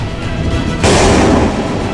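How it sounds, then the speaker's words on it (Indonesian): A bomb explosion sound effect for a war documentary about the 1947 bombing of Malang hits suddenly as one loud, broad rumbling blast that sustains over a noisy background and begins to fade. "Bom-bom mulai dijatuhkan dari langit. Ledakan demi ledakan mengguncang tanah Arema."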